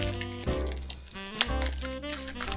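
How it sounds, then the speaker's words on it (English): Crinkly sealed plastic bag with tape on it being handled and opened, close rustling and crackling with a few sharper snaps, no talk over it. "She taped it up, even though it's a sealed plastic bag."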